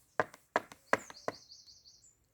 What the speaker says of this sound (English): Soon Little Red Riding Hood knocked on the door.